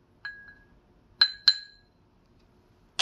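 Drinking glasses clink together during a daily toast: a single light clink, a short pause, then two sharp clinks close together, with a faint start of another at the end, all ringing clearly in a quiet room.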